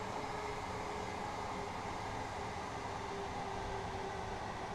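A train rolls along a straight stretch of track in a train-driving game, a faint, even rumble with a steady hum and no breaks.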